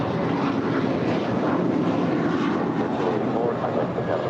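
A United Airlines Boeing 737-900ER takes off from LAX, its jet roar a loud, steady broadband rush that holds for the whole span with no talk over it.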